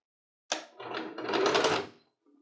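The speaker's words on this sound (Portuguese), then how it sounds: "E eu vou fazer essa costura bem na pontinha." A sewing machine stitches a seam on a stand mixer cover in a short burst of rapid mechanical whirring and clatter, close and alone, ending with a faint click.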